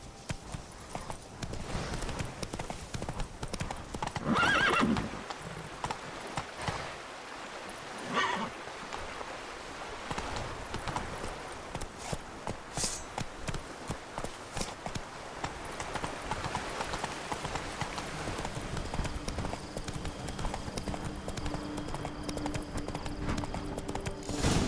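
Hooves pound steadily for about twenty-five seconds as Roach, the horse from The Witcher 3: Wild Hunt, gallops in the game. Brief snorts or whinnies and game ambience surface now and then over the rhythmic clatter.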